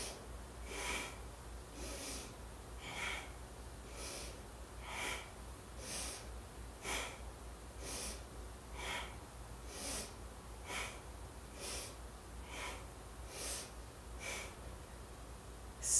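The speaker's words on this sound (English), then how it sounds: "Inhale, exhale. Inhale, exhale." Steady rhythmic breathing during a core workout of bringing the knees in, with soft airy inhales and exhales repeating about once a second, close and even throughout, with no talking.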